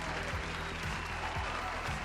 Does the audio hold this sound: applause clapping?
yes